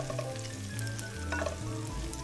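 Garlic and prosciutto fry in a pan with a continuous close sizzle and crackle, plus a few brief clinks of stirring. No one speaks.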